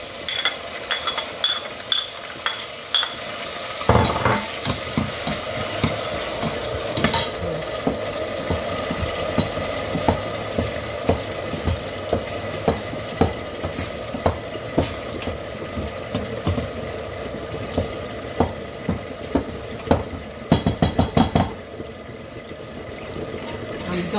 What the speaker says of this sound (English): I'm going to be putting this paprika and onions to the pot.